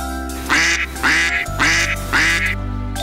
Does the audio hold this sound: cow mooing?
no